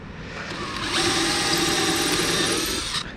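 A power drill bores into cedar over a sacrificial board, a whining motor rising in intensity for about two seconds of steady cutting before stopping abruptly.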